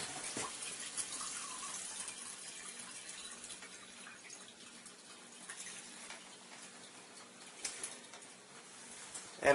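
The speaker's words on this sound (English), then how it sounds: "as we run the water through the machine, we'll be making Kangen water" Water runs steadily through a Kangen SD501 water ionizer as a soft, even hiss. The sound stays quiet and constant for the whole stretch with no voices.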